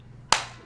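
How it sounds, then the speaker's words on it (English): One sharp hand clap close to the mic, a single loud crack after a brief quiet moment, followed by a short room decay. "I'm gonna clap."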